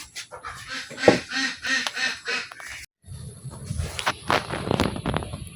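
Ducks quacking in a rain-flooded village field, a flock giving repeated loud nasal quacks in bursts, close by, with a brief break before more overlapping calls and splashing.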